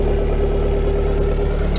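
A PT Cruiser GT with its factory exhaust idles steadily with a low, even rumble and a constant droning tone, its running slightly uneven from worn spark plugs.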